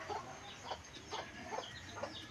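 Chickens cluck and a rooster sounds faintly in a backyard with rabbits kept nearby, giving a few short, soft calls spaced about half a second apart over a steady low background.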